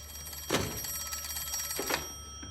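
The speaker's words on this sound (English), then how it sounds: "You should answer the phone, Mr. Shelby." A telephone rings in a 1920s Birmingham gangster drama setting, two clear bursts of bright bell ringing with a third shorter one, fairly close over a steady low hum and no speech.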